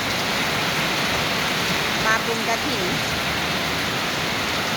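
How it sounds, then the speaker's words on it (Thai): Heavy rain pours steadily in a dense, hissing wash at a rural house in Thailand, with a short spoken phrase briefly heard under the downpour. "เพื่อนๆมาฟังเสียงฝนตกแรงมาก"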